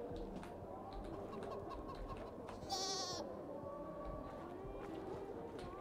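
Goats bleat in Dying Light 2 alongside cooing birds in a quiet game ambience, with one louder, higher bleat standing out near the middle and no speech.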